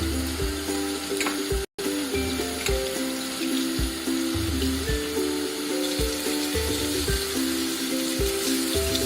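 Ginger sizzles and sautés in hot oil for honey chicken, a steady close crackle of frying with occasional soft stirring scrapes and one brief drop-out.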